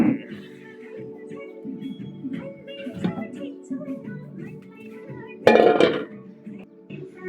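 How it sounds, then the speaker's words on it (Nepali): Dishes being scrubbed and rinsed up close, with scattered clinks of pots and plates and a louder clatter near the end. "भाँडा धस्काइ"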